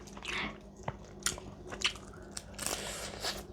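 Close, crunchy bites and chewing on a grilled shrimp head, with several sharp cracks and wet crunches spaced irregularly over a few seconds.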